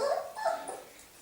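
Four-week-old Berger Blanc puppies whimper and yip softly at close range in a brief, faint burst with no talking.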